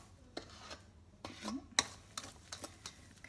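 A spoon stirs cookie batter with vanilla in a mixing bowl, making soft scraping and a few light clinks against the bowl over about three seconds.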